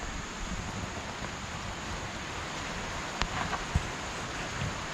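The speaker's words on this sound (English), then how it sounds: "Not as heavy as the other night, but it is raining." Light rain falls steadily outdoors as a soft, even hiss, not a heavy downpour, with a few faint taps and knocks near the end.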